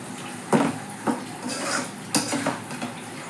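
Spoon scraping and knocking against a pot as potatoes are stirred into a spice masala that is releasing its oil, with three or four sharp clinks amid a steady soft scraping and faint sizzle.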